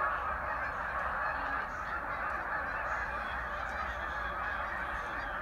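A huge flock of geese honking continuously in late January, a dense, steady wall of overlapping calls with no talk.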